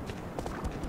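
Galloping horse hooves in the video game Shadow of the Colossus, a quick steady rhythm of soft thuds, close and even in loudness through the brief clip.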